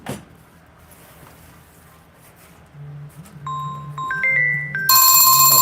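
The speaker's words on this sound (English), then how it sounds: "I'm going to try to answer this phone again." A phone rings with a sequence of electronic tones that start after a quiet stretch and grow louder, ending in a bright, loud burst, with no talking.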